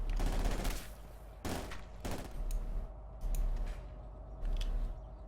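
Gunfire rings out in the World War II strategy game Company of Heroes 2, where rifle and small-arms shots crack in clustered bursts amid a low battle rumble, moderately distant and without talk.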